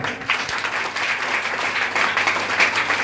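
Seminar audience claps continuously to welcome arriving guests, a steady, moderately loud patter of many hands without a break.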